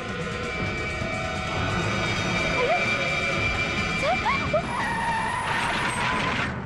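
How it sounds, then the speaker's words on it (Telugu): Busy road traffic jam in a film scene, with engines rumbling, horns honking and whistling tones sliding up, a dense, loud mix of vehicle noise throughout. "ట్రాఫిక్ జామ్ అయిపోయింది."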